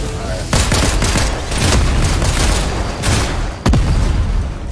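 Rapid bursts of automatic gunfire in the shooter video game Apex Legends, dense, loud, continuous volleys with sharp individual shots cutting through and a few heavier booms.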